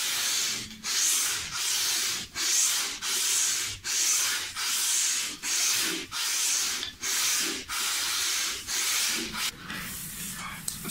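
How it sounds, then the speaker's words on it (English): Sanding a radius onto a wooden guitar fretboard: rhythmic back-and-forth strokes of abrasive on wood, about a dozen even rasping passes close up with brief pauses between them, and no talk. "let's move on to sand the radius onto the fretboard"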